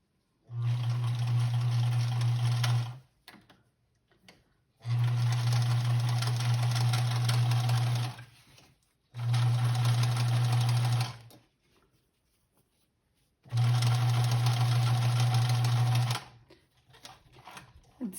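An electric sewing machine stitches a fabric Easter bunny, including back stitching, running in four steady buzzing bursts of a few seconds each with quiet gaps between, close and loud.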